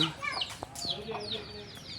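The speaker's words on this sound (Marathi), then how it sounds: "कोंबड्यांचा वावर आहे गावच्या ठिकाणी" Chickens cluck and chatter at a village Mahaganapati temple in rural Konkan, faint and a little distant, with scattered short calls over soft background noise.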